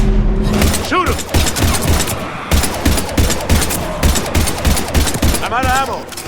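Dense gunfire from a Mass Effect 3 firefight against husks, rapid bursts and booms filling the whole stretch, with shouted voices breaking in over the shooting.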